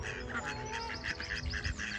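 Ducks at a pond quack repeatedly in a lively, overlapping chorus, with several birds calling in quick succession at close to moderate distance over a steady outdoor background.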